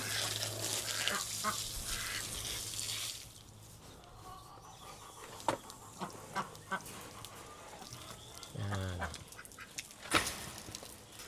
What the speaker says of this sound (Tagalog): Dito din yung mga alaga nating pato.